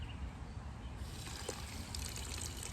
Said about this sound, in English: we're gonna add just water to this to dilute it